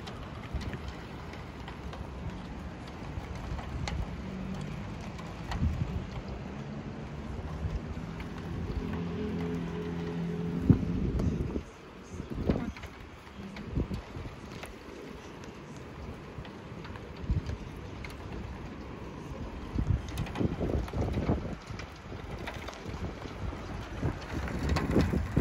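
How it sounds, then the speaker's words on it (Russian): Hail falls in Sochi as a faint, scattered ticking and pattering over a steady outdoor hiss and wind noise. A few louder knocks and brief bursts of activity come up throughout the long, quiet stretch. "Это град."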